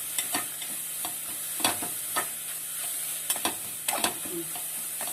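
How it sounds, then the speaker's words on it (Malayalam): Spices and aromatics for vegetable pulao are sautéed in a pan, a steady sizzle under repeated spoon scrapes and clinks at an uneven pace, close and moderately quiet, with no talking. "നമുക്കൊന്ന് വഴറ്റണം കേട്ടോ."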